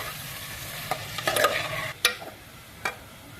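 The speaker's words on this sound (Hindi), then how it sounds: "प्याज डाल के हम इसे अच्छे से ब्राउन कर लेंगे।" Onions brown in a pan for chicken biryani, with a soft sizzle broken by a few sharp scrapes and clacks of a stirring spoon.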